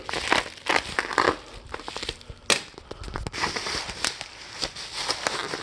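A cardboard FedEx shipping box holding a car oil catch can and PCV delete kit is sliced and torn open, giving close crunching, crinkling and ripping bursts with short pauses, no talking.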